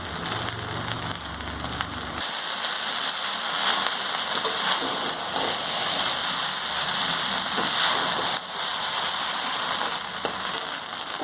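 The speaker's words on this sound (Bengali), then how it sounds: "দু 4 মিনিট ধরে আমি ভালো করে উলটপালট করে ভেজে নিয়েছি।" Chow mein, mixed with vegetables and meat, fries in a home kitchen pan while being tossed, giving a loud steady sizzle that runs throughout with brief stirring scrapes.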